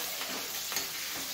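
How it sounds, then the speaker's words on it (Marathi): Green chillies crackle in hot oil alongside cumin and mustard seeds, a short burst of close, even sizzling without any voices. "आता आपण मिरची टाकू. मिरची मस्त फ्राय करून घेऊ."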